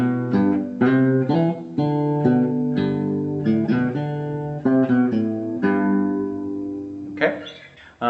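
A guitar plays an intro lick in its second-ending form, a sequence of plucked single notes and short phrases, close and clear, ending in a strum.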